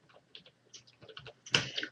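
Quiet, close typing on a computer keyboard: irregular soft key clicks in short bursts, ending in a quick, denser flurry of keystrokes, with no talking.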